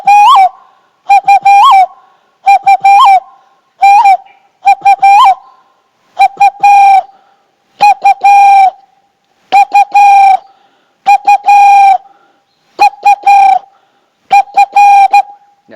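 Spotted dove (tekukur) call imitated by blowing through cupped fingers and hands, a loud, clear hooting coo repeated in short two- and three-note bursts about ten times, close and alone with no talk.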